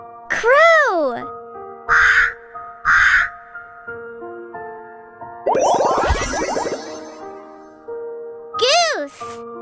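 A crow caws in harsh, rasping bursts, set between brighter bird calls and child-like voices naming birds in a kids' bird-learning sequence; the cawing sits close and loud for a couple of seconds.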